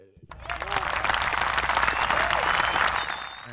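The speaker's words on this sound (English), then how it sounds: "I guess we get applause for that." Applause on a podcast, a dense burst of clapping and crowd noise that starts abruptly, holds steady and tapers off near the end.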